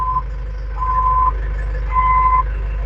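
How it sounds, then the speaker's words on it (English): Reversing warning beeps from a JoyT5 JT5WL2500 wheel loader, three long steady tones at a regular interval over a low engine rumble, close by. "The backup camera will engage when I will press reverse. We hear the audio signal."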